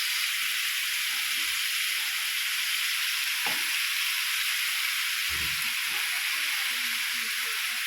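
Corn being stirred in a hot pan gives a steady, loud sizzle with constant frying hiss and a few soft scrapes and knocks of the utensil, with no talking.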